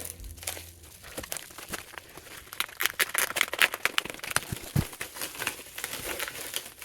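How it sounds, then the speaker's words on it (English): Packaging for a Dell Latitude laptop crinkles and tears as it is unwrapped, a steady run of close, fairly quiet rustling and crackling with scattered sharper crunches. "Let's unwrap this one first, since this was the one that was on top."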